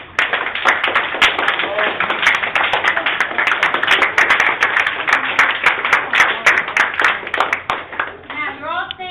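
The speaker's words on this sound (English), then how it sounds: "Give yourselves a round of applause" A standing group of people, including children, claps in sustained applause for about nine seconds, dense and close, with voices mixed in and the clapping trailing off at the end.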